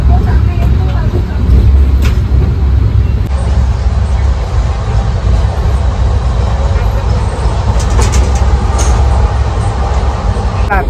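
Steady low rumble and rattle inside a moving passenger train, carriage noise constant throughout with people talking over it.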